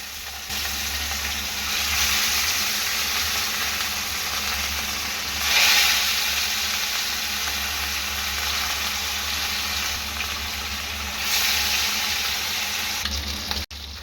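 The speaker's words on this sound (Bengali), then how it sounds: "এই মাছ কটাই এইভাবে ভেজে নেব।" Catla fish pieces frying in hot oil give a continuous loud sizzle with steady hissing and three brief swells, heard alone with no voices.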